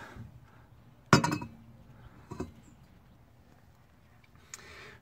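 A tool removing the tie rod on a 2001 Honda Accord gives a sharp metallic clink, a smaller clank about a second later and a faint tap near the end, all close and set against quiet garage background.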